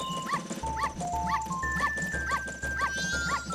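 A small dog in the video game Zelda: Majora's Mask barks repeatedly in a steady rhythm of short yips over game music and chimes.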